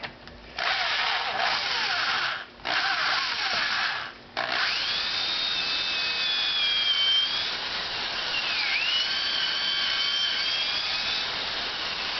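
A power drill whines steadily as it bores holes for bolts in a homemade paracord bracelet jig, with a few short stops and restarts early on and a pitch that dips slightly under load, heard alone and up close.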